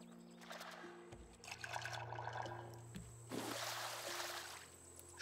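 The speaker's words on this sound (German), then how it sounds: "Meeresrauschen zumindest." Sea waves in the Raft survival video game, a soft, quiet wash of rolling water and trickling surf with a low steady hum underneath, swelling louder partway through.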